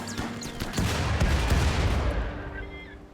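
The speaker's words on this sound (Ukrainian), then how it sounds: "Давай, стройна ракетниця, стріляй!" A triple rocket launcher firing in the video game RimWorld: a dense, continuous volley of crackling blasts and booming explosions that fills the full three seconds at steady loudness.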